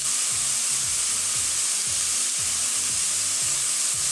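Meat sears on a very hot grill for a Venezuelan pepito, giving a dense, continuous loud sizzle with a steady low rhythmic pulsing underneath and no talking.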